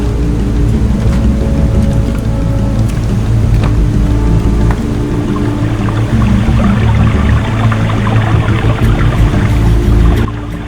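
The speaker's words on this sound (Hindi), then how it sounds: "सड़क के किनारे किनारे झरना बह रहा है" Steady, loud rush of a waterfall pouring beside a mountain road in Himachal, a continuous broad roar close by, with low rumbling underneath.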